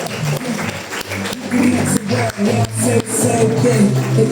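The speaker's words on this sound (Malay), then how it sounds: "Jangan henti tepukan." Seminar audience claps for a marketing manager taking the stage, a loud, close patter of clapping over music, lasting the whole stretch with brief dips.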